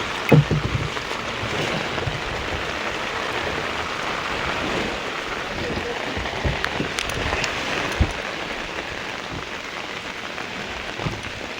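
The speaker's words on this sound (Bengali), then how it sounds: "আমরা এখন ডিঙি বের করছি।" A small wooden fishing dinghy is put out onto the water during heavy rain. Steady rain and water wash fill the scene, broken by a few close knocks and splashes, with no talking.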